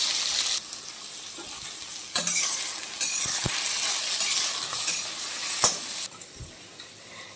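Chopped onion and asafoetida frying with cumin in a pan, a steady sizzle with stirring scrapes and a few clinks throughout, no talk.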